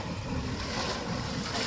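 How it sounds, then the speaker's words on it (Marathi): Water gushes from an old, disused borewell in Beed, a dense, steady roar of rushing flow, close and loud, with no one talking. "हा बघ पाणी बघ खाली कसं चलतंय"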